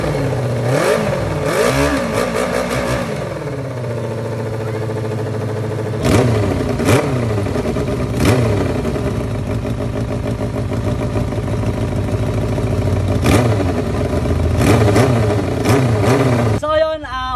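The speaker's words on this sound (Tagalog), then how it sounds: "So yun, umaandar na yung makina." An old vehicle engine runs steadily at a loud, close idle, its tone rising and falling with occasional revs and a sharp clatter near the end.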